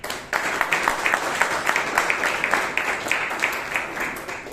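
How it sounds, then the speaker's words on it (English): A room of members claps for a Toastmaster at a Bangalore Toastmasters club meeting, steady applause starting abruptly and holding at an even level, close and without speech. "Give a round of applause for Toastmaster Amrith."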